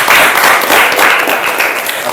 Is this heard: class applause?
yes